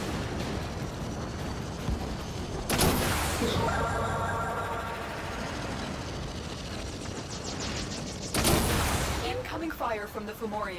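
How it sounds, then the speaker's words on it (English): Heavy weapons fire from a Fomorian warship in the Warframe video game: two loud booming blasts with rumbling roar between them, under game music and a talking voice near the end. "Incoming fire from the Fomorian."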